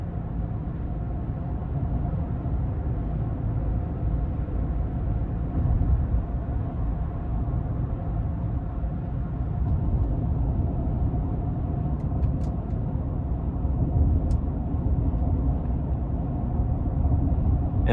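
2022 GMC Sierra 1500 Limited SLT Duramax diesel cruising at 1,000 RPM: a low, steady engine and road rumble heard from inside the cab, constant and unbroken, with no talk.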